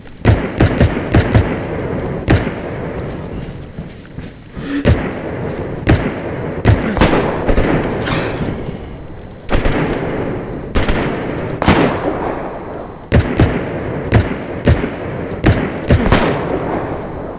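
Fireworks being set off nearby, with a long run of sharp cracks and bangs in irregular bursts, some quick crackling strings and some single thuds, loud and close, with no talk.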